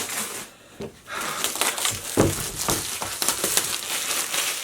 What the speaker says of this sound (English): So all the plastic comes off very easy.